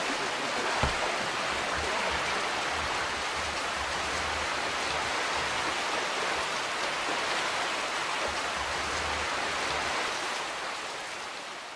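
Heavy rainy-season rain falls in a dense, continuous hiss that stays loud and steady throughout, with faint low rumbles underneath.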